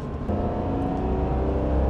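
A Ferrari V12 engine revs up under acceleration, a steady, rising mechanical roar that is close and continuous, with no voices over it.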